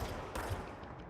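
Weapon fire in the video game Control crackles in a quick, loud volley of shots over a short burst, close and dense with no talking.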